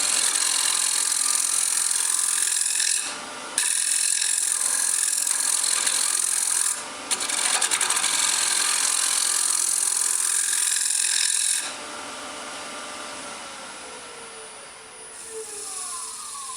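An articulated-arm hollowing tool scrapes and cuts inside a turned wood workpiece on a lathe. The rasping is loud and continuous, with short pauses, then eases to a quieter hiss.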